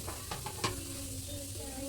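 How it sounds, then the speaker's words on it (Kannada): Mustard seeds sizzle and crackle in hot ghee and oil in a pan, with a few sharp pops early on and then a soft, quiet sizzle that settles into a steady hiss. "ಒಗ್ಗರಣೆ ಮಾಡ್ಕೋಬೇಕು. ಸಾಸಿವೆ ಹಾಕ್ಕೊಳ್ತಾ ಇದ್ದೀನಿ"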